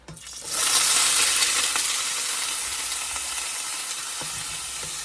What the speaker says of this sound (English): And saute this down.